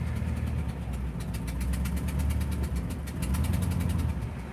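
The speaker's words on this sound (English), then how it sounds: "It did kill the engine." A car engine runs in 4th gear with the e-brake on as the clutch is let out, bogging and stalling. It gives a steady, low, heavy rumble laced with rapid knocking pulses, with no talk.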